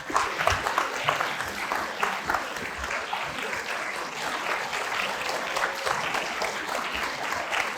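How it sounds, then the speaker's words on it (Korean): An audience applauds steadily for several seconds at a gubernatorial candidate debate, dense clapping filling the room at a fairly even level. "오르실 때 큰 환영의 박수를 보내드리면 좋겠습니다."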